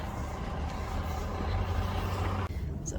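Truck pulling a trailer that carries a bulldozer: a low, steady diesel engine rumble from inside the cab, with a brief dip in sound midway before the drone resumes.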